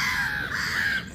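A large bird calls continuously, a harsh sustained honking held steady for about a second before fading, heard up close and outdoors in the UK.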